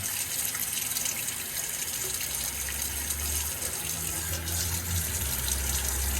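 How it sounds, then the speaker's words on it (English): Water draining through the sink plumbing of a DIY off-road caravan kitchen, a steady close hiss and gush with a low gurgling rumble underneath, continuous throughout without speech. "It drains pretty well."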